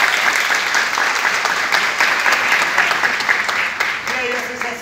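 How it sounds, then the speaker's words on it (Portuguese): An audience at a charity radiotherapy event claps steadily and loudly throughout, with a voice briefly emerging near the end. "Dá uma salva de palmas pra eles."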